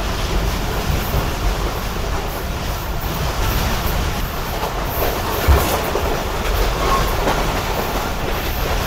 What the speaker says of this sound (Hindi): काफ़ी अच्छी स्पीड में ट्रेन स्किप कर रही है किला कंटार रेलवे स्टेशन को इस वक्त